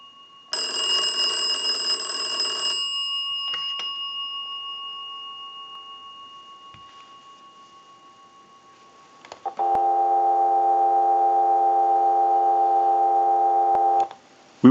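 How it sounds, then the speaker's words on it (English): A final burst of wood bell box telephone ringing fades into near silence, then a steady, loud telephone dial tone starts and holds unbroken for about four and a half seconds. "we'll give you some dial tone"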